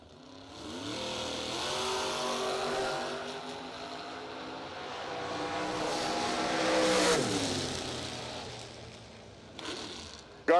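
Drag racing cars, a red Camaro and a Malibu, scream down the strip, their engines climbing through rising harmonic whines, easing off and then surging again near the end, loud and close, with faint background talk.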